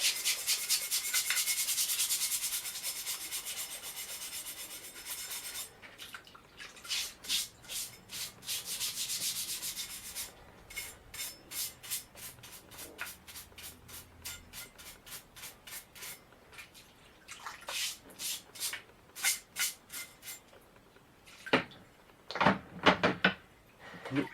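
A garden trowel is scrubbed clean with brisk, rhythmic rubbing strokes, first in a dense continuous scrub and then as separate scratchy passes of varying loudness.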